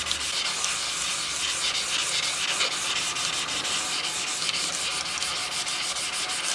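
A stone polished by hand, pushed back and forth on abrasive grit, makes a continuous close gritty scraping with a quick, even stroke rhythm, alone and without speech.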